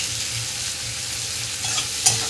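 Sliced onions frying in oil in a pan for a home fish curry, a steady close sizzle and hiss throughout, with light stirring scrapes and a sharp clink near the end.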